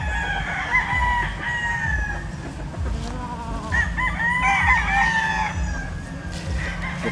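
A Possum Sweater gamefowl rooster, an imported original bloodline, crows several times at a moderate distance, its drawn-out calls rising and falling over a steady low rumble of background noise.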